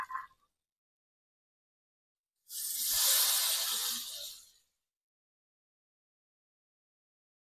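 Water poured into a pan of browned, oil-releasing chicken for biryani, giving a single two-second hissing, splashing sizzle that fades out, with silence before and after.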